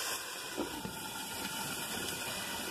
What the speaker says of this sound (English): that's going to steam fry the yakisoba